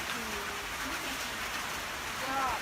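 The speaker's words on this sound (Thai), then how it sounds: "ฝนตกหนักมากเลย" Heavy rain pours steadily at a herb farm growing holy basil, a soft, even hiss of falling water heard fairly faintly with a few brief tonal sounds and possible voices in the background.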